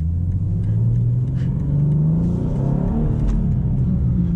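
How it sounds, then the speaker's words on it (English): A 2023 BMW M2 with manual transmission in sport mode rumbles and revs steadily on a night drive, the deep growl rising and falling as the car accelerates, loud and close. "Car sounds really good in sport mode."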